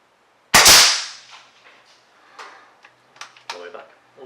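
The bolt of a Lee Enfield-style air rifle is cycled back and forward, starting with a sharp loud metallic clack followed by several lighter clicks and knocks, close by with little else around.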